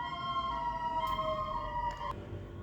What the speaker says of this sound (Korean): 119 구급차가 지나가는 바람에 잠깐 그 잡음이 섞였습니다.